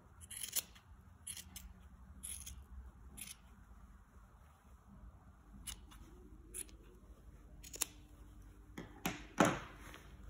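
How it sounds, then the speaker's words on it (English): Scissors snip through excess yarn to trim a handmade pom-pom, a series of sharp, close clicks and cuts spaced irregularly, with a louder cluster of snips near the end and no talking. "then just cut the excess yarn to make the pom-pom fluffier"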